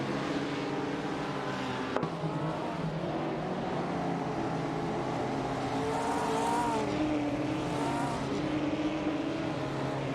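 Several 1950s sports cars race in a video game, their engines droning and rising in pitch continuously over about ten seconds, with overlapping tones as the cars run close together and no talk.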